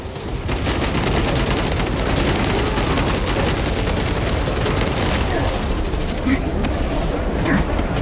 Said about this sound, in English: Pyrogenic bombardment incoming.